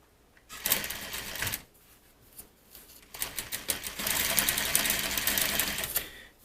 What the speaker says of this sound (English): we're going to go ahead and give this a stitch down